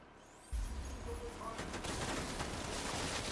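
Gunfire in the video game The Division 2: a dense, continuous burst of automatic shots starting abruptly and rattling on steadily at moderate loudness, heard alone without talk.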